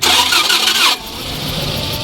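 A 2011 Nissan Caravan van, registered in 2019 and still on its original Japanese engine, cranks loudly for about a second before it catches and settles into a steady idle, close by with no talk.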